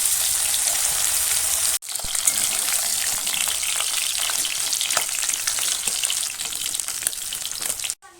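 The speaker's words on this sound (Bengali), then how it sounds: "আরও যে মাছগুলো আছে সেগুলোকে আমি একই রকমভাবে ভেজে নেব" Bhetki fish fry in hot oil in a kadai, giving a loud, steady crackling sizzle that runs unbroken apart from two abrupt cuts.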